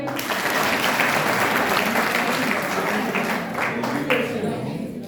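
An audience at a classroom quiz game modeled on a TV knowledge show breaks into loud, continuous applause. The clapping stays steady for about five seconds, with voices mixed in.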